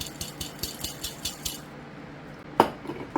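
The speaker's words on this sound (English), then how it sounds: "I'm just going to bang these with the palm of my hand and kind of shake this stuff all down" Glass jars packed with dry meal powders are banged with a palm, giving a quick series of about eight dull, clinking knocks, then a pause and one sharper rattling knock.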